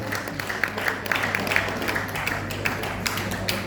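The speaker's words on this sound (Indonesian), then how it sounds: "Tepuk tangan untuk wilayah 12." Scattered applause from delegates at a church plenary assembly session, quieter and uneven, with individual claps popping out of the crowd over a steady low hum.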